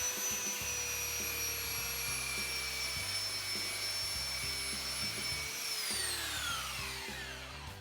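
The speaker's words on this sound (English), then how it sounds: "you can get a belt sander and go over the high points" A belt sander runs steadily on wooden boards to flatten high spots, loud and close with a constant whine, then its pitch drops as it winds down near the end.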